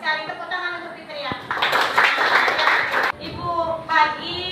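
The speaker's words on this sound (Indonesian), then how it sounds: "Tepuk tangan untuk Fitria" A classroom group applauds a student for about a second and a half, a dense patter of hands, while a teacher speaks in a raised voice before and after it.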